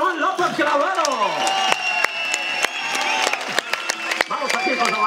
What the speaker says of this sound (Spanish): Un aplauso para José Manuel López Clavero